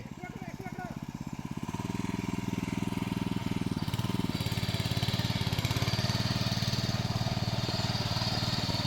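A power weeder engine working a paddy field chugs close by in a loud, rapid, even beat, rising in pitch and intensity as it is revved and then held at speed. A voice calls out over it near the start.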